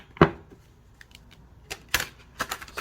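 A tarot card deck being shuffled by hand, heard as a few brief, crisp riffling bursts of cards spread across a couple of seconds, fairly close and without talk.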